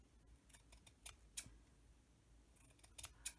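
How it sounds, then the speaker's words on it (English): Scissors snipping a length of ribbon for a craft tassel, a few quiet close crisp cuts in short clusters with pauses between. "I'm going to go ahead and cut mine about 6 inches."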